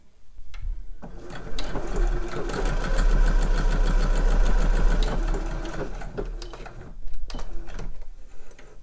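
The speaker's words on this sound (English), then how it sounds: "we're going to sew this together with a 1 centimetre seam allowance along here" A sewing machine stitches a slipper boot seam with a 1 cm allowance, its fast rhythmic needle clatter and motor hum running steadily for several seconds before slowing and stopping, with brief handling noises at the end.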